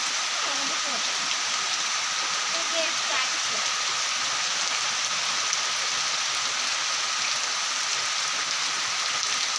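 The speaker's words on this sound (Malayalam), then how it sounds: "നല്ല വേനൽ മഴയാണ്." Summer rain falls steadily outdoors among trees, a dense, even hiss without pause.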